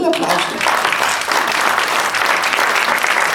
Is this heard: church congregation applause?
yes